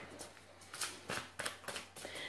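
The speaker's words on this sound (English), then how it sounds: "So I'll just shuffle and get some cards for you" A deck of playing cards is shuffled in several quick riffled bursts, crisp papery rattles repeating about every half second, close and fairly quiet against a faint room hum during a mediumship evening.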